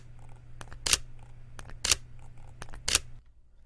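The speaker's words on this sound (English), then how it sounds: "here's the camera press, or the shutter press, here's the shutter click" Sony a7R III camera button press followed by shutter clicks, three close pairs of a soft press tick then a sharper crisp click about a second apart, over a low steady hum.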